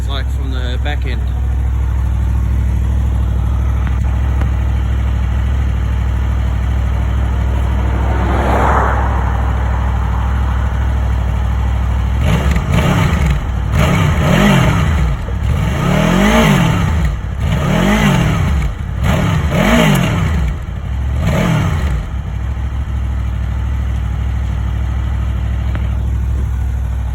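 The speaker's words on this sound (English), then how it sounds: "What it sounds like from the back end." A 2011 Honda VFR800 VTEC motorcycle heard from the rear, its engine idling steadily before a run of loud, repeated revs rising and falling in quick succession, close and strong.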